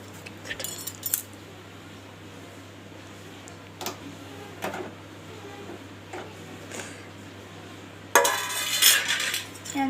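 Food being served into a dish with metal utensils, scattered clinks and scrapes of metal against the dish, then a louder burst of clattering near the end over a faint steady hum.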